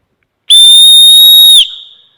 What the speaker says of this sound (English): We have the tiniest whistle I think I've ever seen.